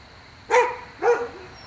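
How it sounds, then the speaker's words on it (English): A dog penned with a chocolate Labrador and a Weimaraner gives two loud, close barks about half a second apart over a quiet night background with a faint steady hum. "My dog Shadow really wants to get out right now"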